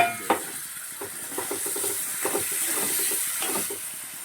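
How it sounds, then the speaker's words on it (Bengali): Green peas frying with spices in a wok, a close steady sizzle broken by repeated scraping and stirring strokes at an uneven rhythm, loud and without talk. "মশলা কড়াইশুঁটি ভালো হয়ে ভাজা হয়ে গেছে দেখুন।"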